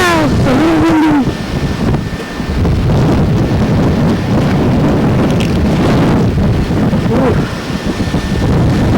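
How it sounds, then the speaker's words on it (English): Strong wind roars and buffets the microphone continuously during a heavy snowstorm while snowmobiling, loud and gusting throughout with no voices. "Holy cow, it's a little windy."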